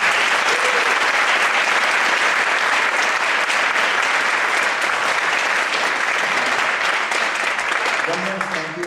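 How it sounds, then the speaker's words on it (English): A school audience applauds high school jazz seniors at their 2012 year-end evening, with loud, dense clapping holding steady for nearly nine seconds and easing slightly at the end. "and give them a round of applause."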